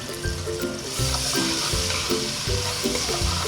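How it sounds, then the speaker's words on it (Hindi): Minced garlic and ginger, a tablespoon of each, frying in hot oil for a chicken roast korma, with a steady loud sizzle and repeated stirring strokes from a utensil in the pan. "1 टेबल स्पून पिसा हुआ लहसुन और 1 टेबल स्पून पिसा हुआ अदरक इसमें शामिल करें ऑयल में।"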